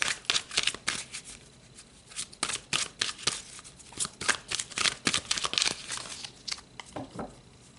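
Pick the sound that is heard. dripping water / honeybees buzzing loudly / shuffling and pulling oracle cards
shuffling and pulling oracle cards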